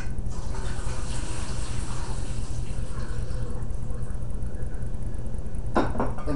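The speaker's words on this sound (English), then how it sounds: "what I want to do first is I just want to strain these off" Diced apples are strained out of lemon water, a continuous splashing pour of liquid draining through a strainer, fairly close, with a brief clatter near the end.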